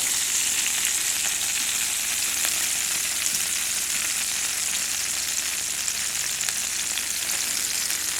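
Steak sizzling loudly in olive oil on a hot pad, a dense, continuous hiss of frying that holds evenly and close throughout, with no voices.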